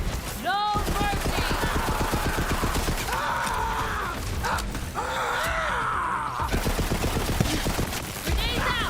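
Rapid machine gun fire in Borderlands 3 crackles in dense bursts, with mechanical clanks and creaking in the breaks and a voice cutting in briefly, loud and close throughout.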